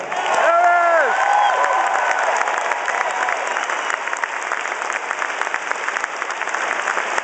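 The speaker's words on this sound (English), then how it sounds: "Please give a big round of applause to Harris Walker" A large crowd at a Pittsburgh pre-election night rally led by Barack Obama bursts into loud, sustained applause and cheering, with a few high whoops rising early before the dense clapping settles into a steady roar.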